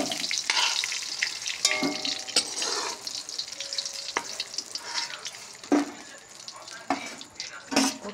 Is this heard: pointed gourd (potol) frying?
yes